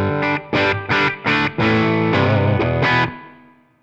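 An electric guitar plays through a Tonex One Super Reverb amp model, a short sequence of strummed chords ending in a sustained chord that rings out and fades.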